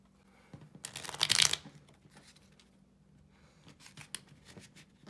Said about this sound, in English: And then you are going to go ahead and do a quick shuffle.